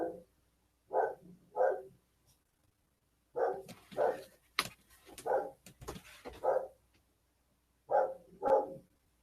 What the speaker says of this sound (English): Hear my dog barking?